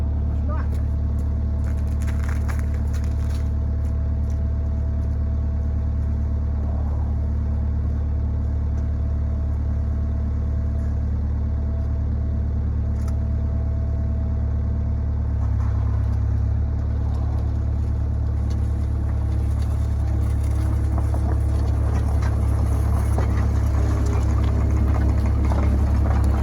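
A skid steer's diesel engine rumbles loudly and continuously, growling harder partway through as it pushes a 1987 Ford Bronco II with a front tire that won't turn.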